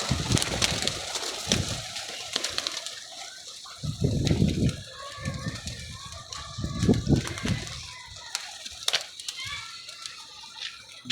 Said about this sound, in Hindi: बड़ा वीआईपी कबूतर है